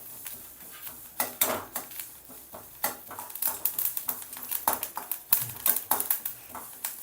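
Sesame seeds dry roasting in a pan over a medium flame, crackling and popping in quick irregular bursts alongside light tapping and scraping of the pan, close and fairly clear.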